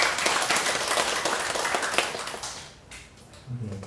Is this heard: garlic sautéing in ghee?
no